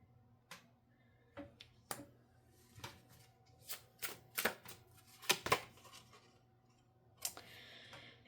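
Oracle cards being shuffled by hand, a series of sharp, crisp slaps and flutters arriving irregularly, building into denser clusters near the middle before a final burst; close and fairly quiet with no talking.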